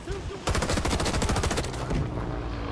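Rapid automatic gunfire pours from a building in the Vietnam-era shooter Rising Storm 2: Vietnam, a dense sustained burst of fast loud cracks beginning abruptly and continuing for about two seconds before thinning out.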